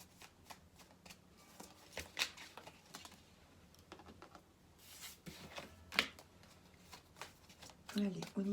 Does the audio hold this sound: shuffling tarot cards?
yes